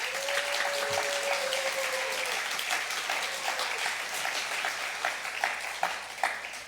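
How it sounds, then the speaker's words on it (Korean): Sustained applause from a large crowd at a Korean university chapel service, steady and loud throughout, with scattered sharper claps standing out near the end. "여러분 환영의 박수 크게 한번 하겠습니다."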